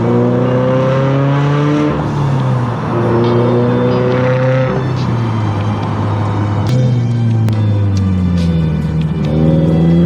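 A turbocharged Subaru BRZ running E85 fuel, around 350 wheel horsepower, rumbles loudly and revs up and down in repeated swells, with sharp exhaust pops and crackles breaking through near the end.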